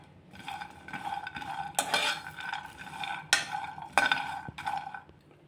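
Coconut, cumin and cinnamon fry in a pan while a spatula scrapes and knocks in repeated close strokes, with a faint sizzle underneath.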